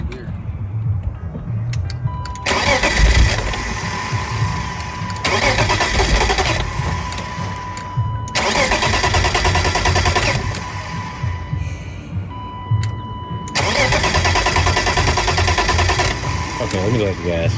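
An abandoned BMW E36 M3 cranks and fires in repeated bursts, the starter whirring and the engine catching and roaring loudly several times in a row, with brief quieter gaps between attempts and people talking nearby.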